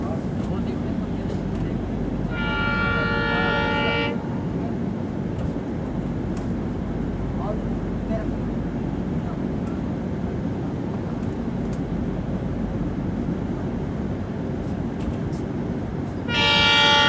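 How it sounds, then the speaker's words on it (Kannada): The Mysore–Sainagar Shirdi superfast express rushes past at high speed with a loud, steady roar and rattle of wheels, its horn blaring once early on and again at the very end. "ಬಂತು ನೋಡ್ರಿ ಗಾಡಿ ಫುಲ್ ಹೈ ಸ್ಪೀಡ್ ಒಳಗೆ. Mysuru Sainagar Shirdi super fast."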